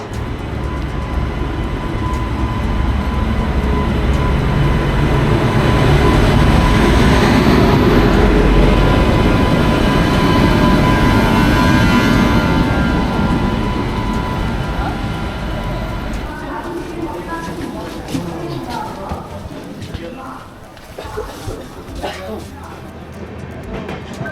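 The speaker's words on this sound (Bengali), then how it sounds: "আজকে আমি ট্রেন ধরছি তেরো একশো তেপ্পান্ন গৌড় এক্সপ্রেস" The Gour Express passenger train running, a loud continuous rumble and roar of rolling wheels that swells midway then eases, with lighter rattling and clatter toward the end and a voice speaking over it.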